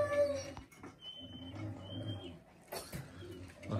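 A Dogo Argentino and a Cane Corso play close by, letting out short whimpers and whiny yelps in a few brief bursts, with little else around them.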